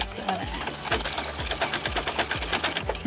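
Sewing machine stitching straight down through fabric scraps for a small hair bow, a steady rapid mechanical chatter with regular needle thumps about every half second, close and continuous.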